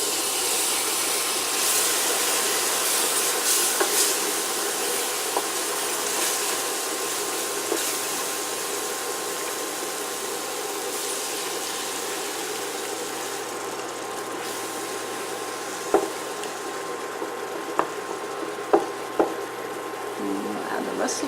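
Red wine poured into a hot pan with tomato paste while braising beef bourguignon, giving a steady, close, loud hiss and sizzle that runs throughout with a few sharp pops and scrapes near the end.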